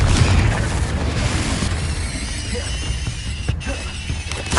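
A Confringo explosion spell in Hogwarts Legacy blasts with a loud, rumbling boom that trails off into crackling, mechanical debris noise over several seconds, close and without talk.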